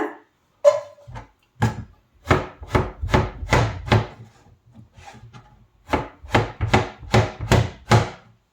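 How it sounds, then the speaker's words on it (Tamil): Aubergine for pickle chopped with a knife on a board, a series of sharp, close thuds in two bursts, with a few strokes, a pause, then a quicker run of about eight chops. "இந்த பாருங்க இந்த மாதிரி நான் வெட்டிக்கிறேன் இதை"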